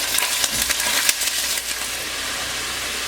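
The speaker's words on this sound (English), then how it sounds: "we're going to cook this up, and we're going to cook it till it's no longer pink, and we're going to break it up as we go" Crumbled sausage frying in a pan while being broken up and stirred, a close, steady sizzle with scraping and clinking from a utensil over the first half, easing into a smoother constant hiss, with no talk.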